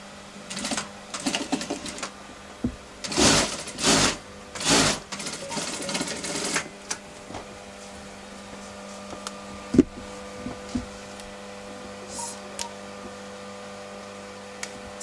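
A sewing machine runs in short bursts while stitching down the pockets of a pair of ladies' trousers, with a slightly odd sound to it. The whirring runs come in the first seven seconds, then give way to quieter handling noises and a faint hum.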